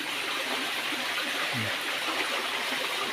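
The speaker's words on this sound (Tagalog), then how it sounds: "May sapa dito" A stream flows steadily through a quiet forest spot in Del Gallego, Camarines Sur, giving a continuous broadband rush of moving water with no talking over it.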